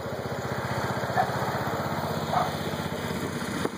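A John Deere 216 lawn tractor engine runs steadily nearby, a loud, even buzzing drone with a fast mechanical pulse and no voices.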